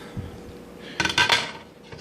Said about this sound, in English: Take this lid off.